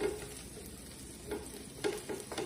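Fresh chopped garlic sizzles steadily in a hot pan, a close crackling fry with a few louder stirring scrapes spaced through it, no voices.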